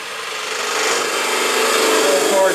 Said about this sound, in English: I am also turning the tool and scooping out.